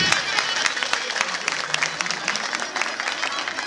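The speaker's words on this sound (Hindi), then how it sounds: "एक बार जोरदार तालियां।" An audience at a village gathering in India breaks into hearty applause, a dense sustained clatter of many hands clapping close by with some voices mixed in.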